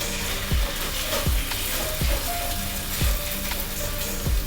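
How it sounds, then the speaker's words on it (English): Beef browns in a pan for a hearty beef stew, giving a dense, continuous sizzle punctuated by regular soft knocks of a utensil every half second or so. "right now, all we're really doing is browning the beef"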